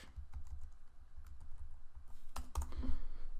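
Keys on a computer keyboard tapped in short irregular runs while entering a product search, close and moderately loud clicks with a denser cluster near the end, no talking.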